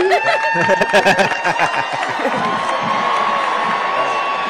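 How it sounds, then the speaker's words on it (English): Onscreen characters in a cartoon cheer loudly as a crowd, with bursts of shouting and whooping that settle into a sustained cheer. "Wait, everyone's cheering."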